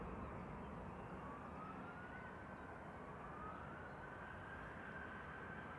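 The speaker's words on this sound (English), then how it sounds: "EasyJet off to Munich." An EasyJet airliner taking off from Manchester Airport, bound for Munich, gives a steady, faint, distant roar that holds throughout.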